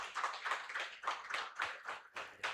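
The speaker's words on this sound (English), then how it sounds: "Guys, clap for them." A small crowd at the With Love Uganda annual general meeting claps for the association's founders, with steady, fairly quick claps standing out individually at close range.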